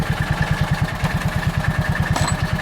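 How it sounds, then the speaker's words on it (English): A John Deere Gator 4x2 utility vehicle's small engine runs hard at wide-open throttle with a rapid, even putter, loud and close, with no talk over it. "let's give her wide open throttle here on the pedal"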